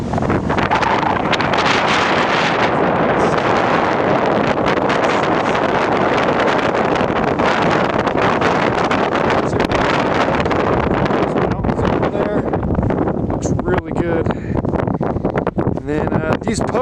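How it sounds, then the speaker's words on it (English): Strong wind roars steadily across the microphone on the crater rim of Mt. St. Helens, a loud, constant buffeting rush that barely eases for the whole stretch. "It's still really windy"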